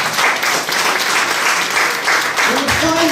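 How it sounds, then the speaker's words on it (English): Steady audience applause during a couple's interview, dense clapping held at even loudness for about three seconds, with a voice starting to speak near the end. "Give a round of applause."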